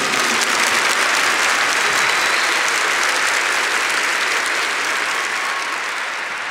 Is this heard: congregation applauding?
yes